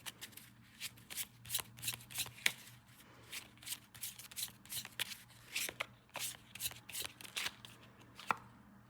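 Tarot cards being shuffled by hand during a November reading, a steady run of crisp riffling and slapping bursts repeating close up for several seconds with no talking.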